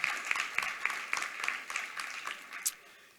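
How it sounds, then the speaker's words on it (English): Applause from the audience at an eighth grade graduation ceremony, a fairly faint, sparse clapping with distinct individual claps rhythmically spaced and tapering off over a few seconds. "Let's give them a round of applause."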